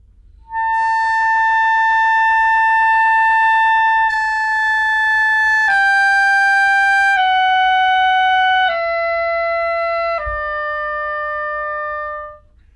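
A clarinet slurs a series of descending notes, each sustained for a second or two, the tone breaking cleanly between steps as notes drop out; no voices.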